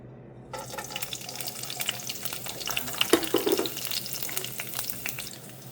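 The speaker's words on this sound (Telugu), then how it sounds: "అదే కడాయిలో కొంచెం నూనె, అంటే 2 స్పూన్ల నూనె వేసి కొంచెం వేడయ్యాక దీంట్లోకి పచ్చిమిర్చిని వేయించుకుంటాం." Green chilies frying in about two spoons of hot oil in a kadai, a close crackling sizzle that starts abruptly and continues with sporadic pops and clicks, no speech.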